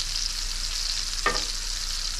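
Pieces of deer loin fry in a pan for a stir fry, giving a steady close sizzle with one brief louder crackle partway through and no talk.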